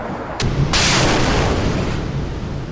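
A surface action group fires missiles in a naval warfare game, two sharp cracks followed by a long, roaring launch rush that slowly fades.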